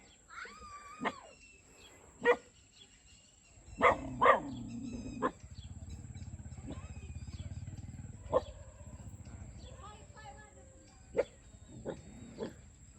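Several loud, sharp barks from dogs at close range, scattered irregularly across a rumbling outdoor background with some faint vocal sounds between them.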